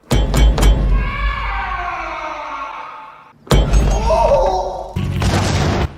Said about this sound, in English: Yep, that's a grenade launcher.